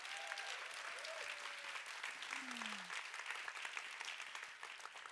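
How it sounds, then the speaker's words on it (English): Applause for the organizing team at an investment summit, heard as a fairly faint, distant, steady patter of clapping from the audience throughout, with a brief tonal sound in the middle. "So please give a big applause to the Minc team."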